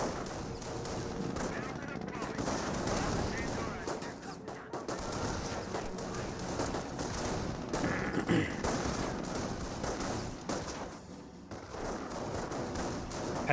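Sustained rifle and machine gun fire in Company of Heroes 1 as a rifleman squad engages Panzer Grenadiers in a garrison, dense overlapping bursts and thumps running throughout under a talking voice.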